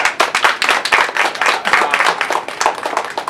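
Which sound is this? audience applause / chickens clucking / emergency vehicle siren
audience applause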